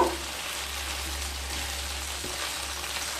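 Marinated soybean chunks stir-fried in a pan, giving a steady close sizzle and crackle with a faint scrape of stirring, no voices.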